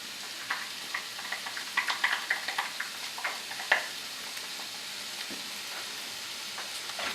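Asparagus, garlic and peas sauté in a pan with a steady soft sizzle, broken by scattered clicks and scrapes of stirring, clustered most densely in the first half and thinning out toward the end.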